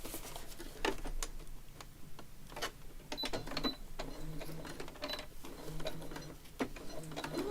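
A sewing machine stitches around a piece stuck onto a junk journal page, its needle mechanism rattling in uneven bursts with short pauses between runs, fairly quiet and close with no talking.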